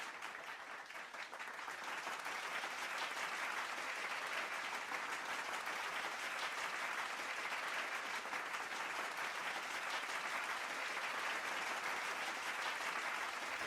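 Sustained applause from a large crowd at an achievement day celebration, steady and dense clapping throughout with no voices.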